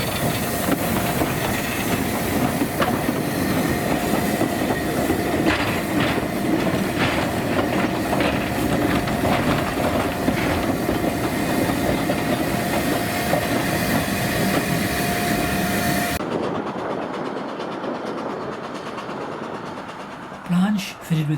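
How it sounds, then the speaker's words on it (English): The narrow-gauge steam locomotive Lilla hauls a freight train on the Ffestiniog Railway toward Porthmadog, with loud, continuous rail clatter and rhythmic clicking over steam hiss that cuts off abruptly near the end, leaving faint background sound. "Lilla returns to Porthmadog with the freight train we saw earlier."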